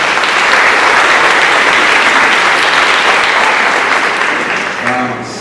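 Sustained audience applause for Key Club senior scholarship recipients at a school awards night, loud and dense throughout, fading slightly near the end as a voice begins.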